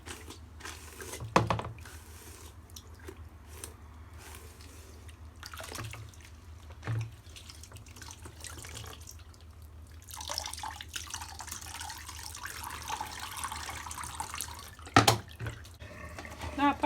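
Hot tap water runs and splashes in a sink while a black wig is rinsed, giving a soft, continuous trickle with occasional louder splashes and drips, recorded close by.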